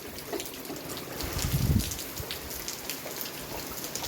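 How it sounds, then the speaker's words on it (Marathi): Steady rain falling at a farmhouse during the monsoon, a dense even patter on surfaces that swells briefly into a louder gush, with no talking. "आज आमच्या इथं फार्म हाऊसवरचा शेवटचा दिवस आहे आणि ते मस्त पाऊस पडतोय."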